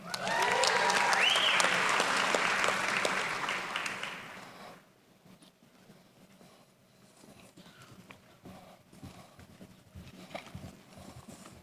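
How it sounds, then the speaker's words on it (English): Audience applause at a medical school hooding ceremony, a loud sustained burst of clapping from the crowd for about four seconds that then drops away to quiet room noise. "I'd like you to please hold your applause until all 3 candidates have been announced"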